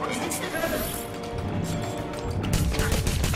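An explosion in the video game Remember Me, a crashing burst of noise with debris-like clatter that swells toward the end, heard alongside game sound and a voice.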